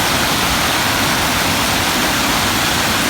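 Creek water rushes steadily after a storm, swollen with debris and slightly flooding, a loud continuous broadband roar with no pauses and no voices.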